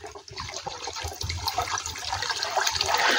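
Water from a DIY water curtain fountain falling a short height and splashing down, a steady close rushing splatter with no voices.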